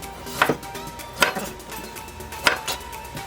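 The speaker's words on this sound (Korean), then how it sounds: "당근 썰기 동그랗게 똑바로 썰어도 되고 어슷 썰어도 되고" Knife chopping carrots on a cutting board at home, three sharp, close chops spaced roughly a second apart, each followed by a softer knock, over quiet room tone.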